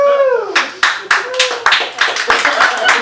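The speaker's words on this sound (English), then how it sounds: "I asked you not to clap for" A comedy club audience claps in a few loud, sharp bursts after a stand-up comedian's line, with a voice trailing off at the start and brief pauses between the rounds of applause.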